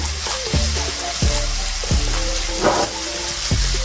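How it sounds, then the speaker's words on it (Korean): Ham sizzles loudly in a pan over medium heat alongside onion and garlic, with a steady frying hiss broken by repeated scraping stirs roughly every three-quarters of a second. "자, 이제 볶아줄 거예요"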